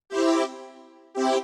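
Juno 60 strings preset on IK Multimedia's Syntronic synth plugin, two sustained lush chord swells, the first fading into a soft tail before the second enters, with no voices.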